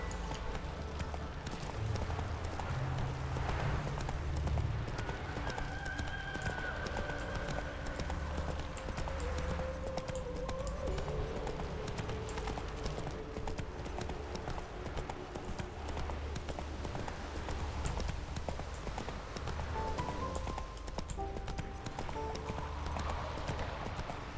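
Roach, the horse in The Witcher 3, gallops in a steady rapid clip-clop of hooves that runs throughout, mixed with game music and ambience.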